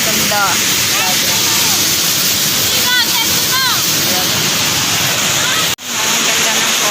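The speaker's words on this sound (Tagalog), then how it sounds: "Ang ganda ng falls guys." A roaring waterfall pours in a loud, continuous broadband rush close by, with a few bird chirps faintly on top and a brief dropout near the end.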